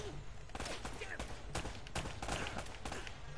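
Rapid gunfire bursts from the video game Uncharted, quiet and overlapping, mixed with talking throughout.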